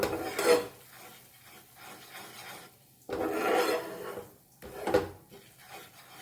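A spoon scrapes and rasps around a pan while flour roasts in butter over low heat for a white sauce, in three rough bursts of stirring separated by quieter pauses.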